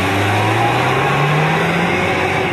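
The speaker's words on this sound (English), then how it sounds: "our Saab's turbocharged 4-cylinder engine." A Saab's turbocharged four-cylinder engine drones steadily with a rising hum as it accelerates, a slightly wheezy, breathy mechanical tone continuing throughout.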